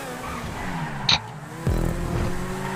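Engine of a Grotti F1 race car in GTA V, a loud, steady high-revving drone with a brief tire screech partway through and a sudden gear shift or rev surge following, heard close and without talk.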